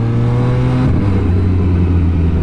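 A 798cc inline three-cylinder engine on an MV Agusta Superveloce motorcycle revs steadily up close, a loud continuous drone with a shift in pitch partway through and no talking.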